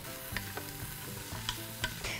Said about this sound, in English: We're gonna saute these onions for about just a few minutes or just until they're softened.